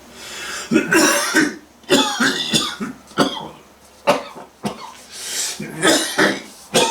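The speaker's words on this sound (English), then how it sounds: "at least all this coughing is good for the stomach muscles and the diaphragm" A person coughs repeatedly in short, harsh bursts spaced a second or so apart, close and fairly loud, with some throat clearing between.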